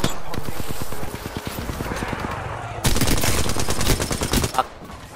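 Rapid gunfire from a video game shooter crackles in fast bursts, first a steady rattling sequence and then a louder dense volley, with voices talking over the shots.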